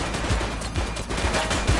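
Rapid gunfire in a police shootout from the video game The Precinct, a burst of loud, closely spaced shots cracking one after another for a couple of seconds with no talk.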